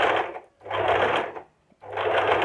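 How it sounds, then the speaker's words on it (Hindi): A sewing machine stitches a princess-cut blouse in three steady runs, each lasting under a second, with short silent pauses between them. "बहुत सावधानी से सिलाई लगाएं"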